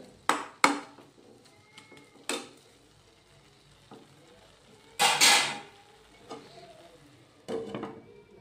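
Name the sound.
stirring carrot halwa in a pot and putting the lid on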